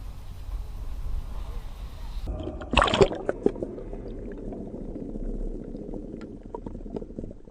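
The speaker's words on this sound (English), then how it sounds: "So now I'm just going to drop it in the water and see what we pull up." A heavy 800 lb Brute Magnetics fishing magnet plunges into water with a sharp splash about midway through, preceded by outdoor rumble and followed by gurgling, lapping water and small knocks close by.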